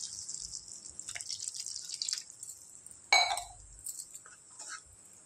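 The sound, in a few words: pouring a glass of water into tomato curry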